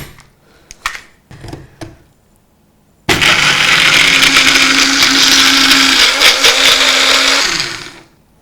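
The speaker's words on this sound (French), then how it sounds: "Et on va mixer dans mon petit mixeur Tribest." A small Tribest blender mixing basil pesto: a few clicks and handling knocks come first, then a loud, steady motor whir runs for about four and a half seconds before cutting off.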